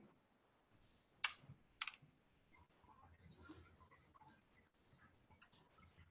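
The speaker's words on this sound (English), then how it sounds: "click record" A computer mouse clicked to start a podcast recording, two sharp close clicks in quick succession followed by faint small taps and room tone.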